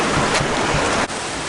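Glacier meltwater rushes through a crevasse in a steady, broadband roar with a brief dip near the end, close and loud, with wind buffeting mixed in.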